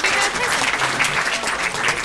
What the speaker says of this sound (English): a nice round of applause there for Andy